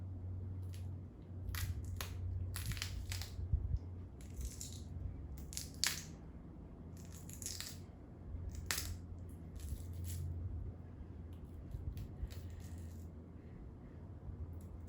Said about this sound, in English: you can see that it's splitting fairly easily along the grain